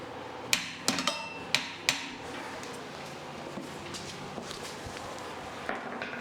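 A hammer striking during tire changing in a garage, landing about five sharp, ringing blows in quick succession, then a few fainter knocks over a low background.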